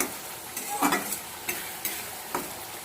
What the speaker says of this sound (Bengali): এবার একটু নেড়ে দেব ঢাকাটা খুলে